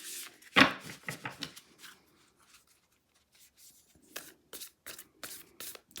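Tarot cards riffled and shuffled by hand in quick bursts, a sharp snap early, then a pause before more brisk shuffling close up.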